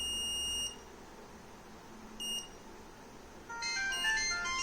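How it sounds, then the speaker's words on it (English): A SCADA industrial security kit sounds its phase-fault alarm as short, high electronic beeps in separate bursts, the last one longer and brighter, over a faint background hiss. "beeps will generated from the kit"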